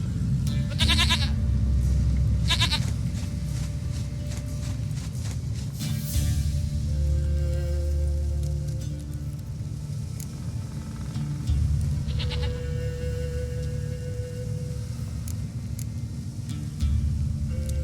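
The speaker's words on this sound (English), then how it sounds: "Goat of mine, dearest, sweetest goat." Goat bleating in The Witcher 3 game, several short nasal bleats rising over a steady bed of ambient game music and rumble, with a louder cluster near the start and another later on.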